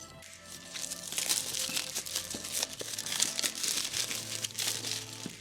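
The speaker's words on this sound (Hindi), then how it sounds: "पहले चल के बॉक्स के ऊपर इस प्लास्टिक को उतारते हैं" Crinkly plastic wrap peeled off a Realme 5 Pro phone box, a close, continuous crackling and crumpling with small tearing bursts throughout, no talk.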